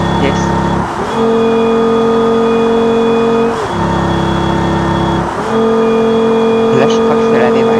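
A car at very high speed on a fast run, its engine holding a loud steady whine that drops briefly twice, with two short pitch dips before it climbs back, and constant road roar underneath.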